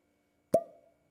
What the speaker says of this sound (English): Not a bad cork pop.